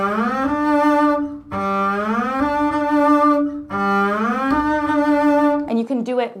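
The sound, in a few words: double bass landed shift slide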